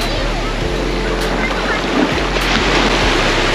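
Calm sea waves wash gently onto a small fine-sand beach, a continuous soft surf hiss with light wind, heard up close.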